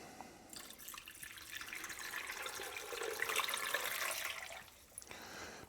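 Water runs steadily into a container for a turmeric and ginger protein shake, a continuous splashing pour building slightly louder toward the end before stopping abruptly, with no talking.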